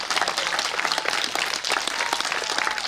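Applause at a kindergarten football academy event, a lively, fast patter of many hands clapping together, close and steady throughout.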